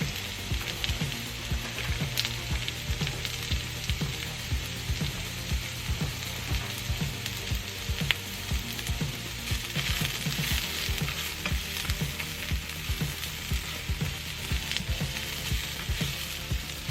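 Onion frying in olive oil spray in a pan, a steady dense sizzle with frequent small crackles and pops running continuously throughout, fairly close and even in loudness, with no voices.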